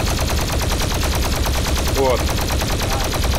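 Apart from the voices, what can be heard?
Doom plasma gun firing in the video game Garry's Mod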